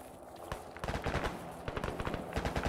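Rapid bursts of video game gunfire crackle in quick succession, a dense fusillade of sharp shots with some nearer and louder than others, without speech.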